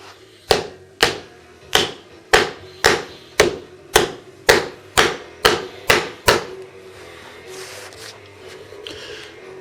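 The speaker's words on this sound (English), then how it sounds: "now we're going in for the final hammering" A hammer strikes a vinyl floor tile miter a dozen times in a steady, evenly spaced rhythm, each blow sharp and close, then stops, leaving quiet room noise.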